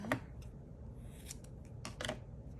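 Scissors snip through blue felting wool for a needle felted hummingbird, a few crisp cuts spaced apart near the start, midway and toward the end, close and fairly quiet with no talking.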